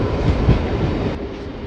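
Rampurhat-Jasidih MEMU passenger train rolling into Dumka station on a hilly Jharkhand line, a close steady rumble of wheels on track with faint clatter and no voices.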